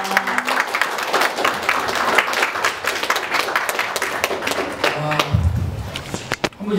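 A crowd claps steadily in sustained applause, dense and fairly loud, tapering off near the end.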